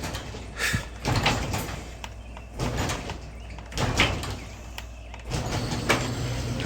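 A vehicle's sliding door closes slowly while its button is held down, giving a steady rumbling drag with repeated thumps and mechanical clunks over engine and road noise.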